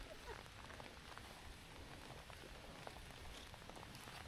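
Steady rain pattering on a surface at a campsite, a dense, even hiss with scattered drop ticks throughout, fairly quiet and continuous with no talk.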